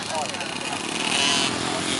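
Two-stroke junior speedway motorcycles race around a track, engines droning in a steady high-pitched buzzing roar that swells slightly, heard at a distance under a commentator's voice.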